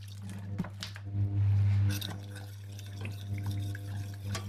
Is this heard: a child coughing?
no